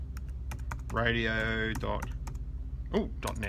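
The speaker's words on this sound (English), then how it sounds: "I'm just going to type site, S-I-T-E, colon" Computer keyboard keys clicking in short sparse bursts, close and fairly quiet, running under a man's speech that dominates the middle of the moment.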